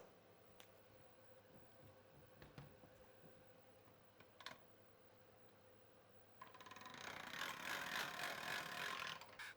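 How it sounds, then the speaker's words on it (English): A pasta machine rolls out ravioli dough, starting with faint clicks and light mechanical rattles before a steady, louder whirring grind of the rollers sets in for the last few seconds. "I'm going to start now by rolling out the dough with this machine."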